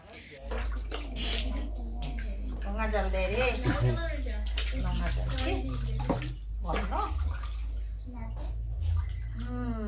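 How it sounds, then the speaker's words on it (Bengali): Warm water splashes and sloshes continuously as a baby is bathed at home, with a voice talking over the gentle washing throughout. "বাবুসোনাকে এখন স্নানটা করিয়ে দিচ্ছি"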